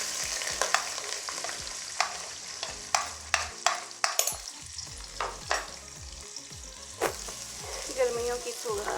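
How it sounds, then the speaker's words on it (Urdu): Onion fries in hot oil, crackling and sizzling continuously while a utensil scrapes and stirs, producing repeated sharp clicks and knocks against the pan over the frying hiss. "پیاز کو میں ہلکا براؤن کروں گی۔"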